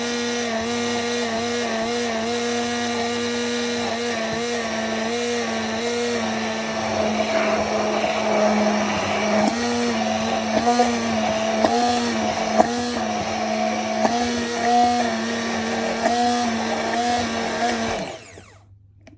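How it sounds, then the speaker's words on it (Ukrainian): A blender whirs continuously for a long stretch making homemade mayonnaise, its motor pitch shifting slightly as it churns, then winds down and stops. "ставимо і включаємо блендер"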